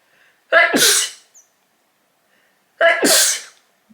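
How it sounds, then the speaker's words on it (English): Two sharp sneezes, each with a quick inhale and a forceful burst, separated by a couple seconds of silence. "All this sneezing today, is it a sign that I have to dust more?"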